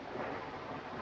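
Steady heavy rain and a low thunder rumble outside an old house on a stormy night, a dense continuous wash at even loudness with no voices.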